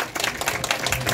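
Audience applause at an eighth birthday celebration for a resort complex in Kranevo: a steady run of dense clapping that holds for just over a second at moderate loudness.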